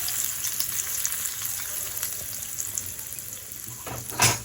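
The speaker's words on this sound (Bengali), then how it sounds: "এইভাবে আমি তরকাটা দিয়ে দিলাম।" Garlic tempering sizzling in a pan for dhaba-style lasooni palak paneer, a steady close hiss with a brief louder splash of sizzle near the end, no voices.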